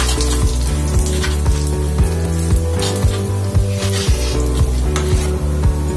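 Whole dried red chillies sizzling in a pan for a South Indian red chutney, a loud close crackling fry with rhythmic stirring scrapes throughout.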